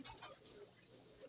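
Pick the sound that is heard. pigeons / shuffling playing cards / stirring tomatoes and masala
pigeons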